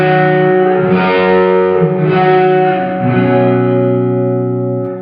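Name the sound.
Sonicake reverb pedal at 100% mix, all reverb, no dry signal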